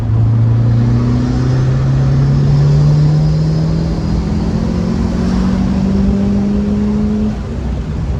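A modified Honda car accelerating hard in third gear from about 40 mph, a loud, close engine drone climbing steadily in pitch as revs rise, continuous with no talking.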